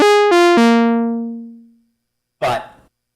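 A modular synthesizer organ patch with the filter cutoff fully open plays three bright, harmonically rich sustained notes that step downward and slowly decay, followed by a short noisy burst after a pause.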